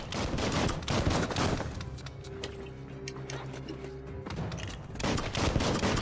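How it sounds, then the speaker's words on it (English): Gunfire from the Biomutant game rattles in fast, heavy bursts, loud and close. It stops for a steadier droning stretch midway and then resumes at full intensity. "I'll just shoot him. I gotta reload."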